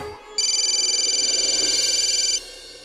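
A telephone rings once with a steady, bright electronic trill lasting about two seconds, loud and close, with a quiet room before and after.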